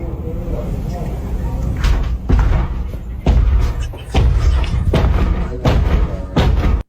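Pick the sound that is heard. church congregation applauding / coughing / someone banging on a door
someone banging on a door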